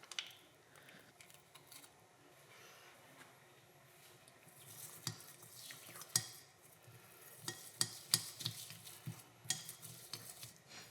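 Clear slime mixture being stirred in a bowl, producing soft wet squelching and clicking that begins faint and grows busier and louder in the second half, with no voices.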